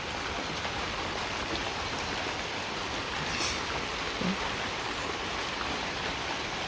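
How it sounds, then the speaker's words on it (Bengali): Steady rain falls in a village, a dense even hiss of drops on surfaces that stays constant and fairly loud throughout, with no voices. "এরকম রোদ থাকে, এরকম বৃষ্টিও।"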